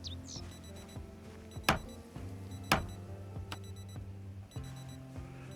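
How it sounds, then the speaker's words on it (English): An alarm rings in the video game Project Zomboid, repeating electronic beeps in a steady pattern over game ambience, with a few sharp clicks and thuds mixed in. "Why is there an alarm going off?"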